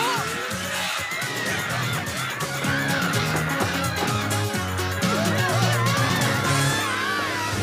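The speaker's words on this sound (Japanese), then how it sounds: "あれ、鳥だよ。" Seagulls in an anime call in a busy flock, repeated honking squawks layered over one another and growing louder, with a voice speaking briefly in the mix.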